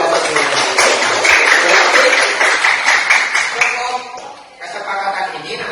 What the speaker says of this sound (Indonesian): kalau deal kita tepuk tangan untuk kita semua